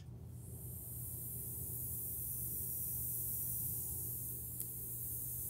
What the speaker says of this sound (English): So let me turn on the compressor.